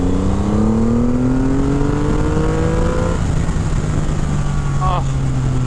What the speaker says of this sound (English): And the exhaust on this thing sounds so nice